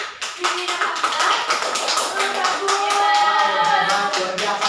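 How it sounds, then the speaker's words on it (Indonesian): Classroom of students clapping for two classmates after a presentation, a lively run of hand claps under faint murmuring voices, steady for several seconds with some softer taps. "Sekarang beri tepuk tangan dulu kepada Rini dan Hamidah."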